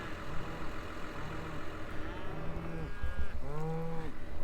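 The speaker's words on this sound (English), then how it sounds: "there's a group of calves over there chowing down on the bale I put out already" Calves mooing on a farm, a few low drawn-out calls rising out of a steady background rumble, the loudest one near the end and close by.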